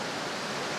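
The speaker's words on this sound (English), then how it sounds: "you've got this just spectacular waterfall that runs for several hundred metres up there" Water pours steadily off a high tidal reef in the Kimberley, a broad, dense rushing roar with no break or change, close and loud.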